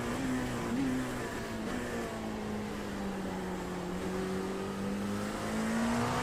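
Race car engine in the iRacing sim at Daytona, a steady sustained drone held at high revs throughout, with slight pitch drift and a faint rise near the end, loud and continuous with no talk.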